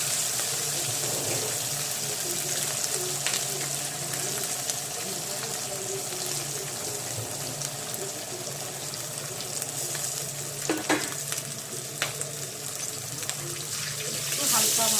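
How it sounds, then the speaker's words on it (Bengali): Hilsa fish pieces fry lightly in mustard oil in a kadai, a loud, close, continuous sizzle with occasional spatters and utensil clinks, and a brief louder burst near the end. "এখন এই যে ইলিশ মাছগুলো দিয়ে দিচ্ছি। এগুলো একটু হালকা ভেজে নেব"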